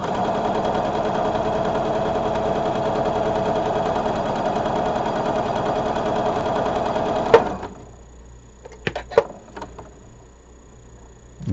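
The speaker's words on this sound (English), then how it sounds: "I'm just going to put my needle down, my foot down, and sew, and see what happens" A sewing machine fitted with a quarter-inch foot stitches quilt pieces for mitred corners in a steady, loud, continuous run that stops abruptly, followed by a few small clicks and handling taps.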